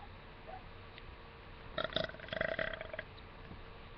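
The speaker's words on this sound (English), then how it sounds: "I haven't like burped in a really long time actually" A person burps close to the microphone late at night, with a short cluster of throaty bursts in the middle of an otherwise quiet stretch.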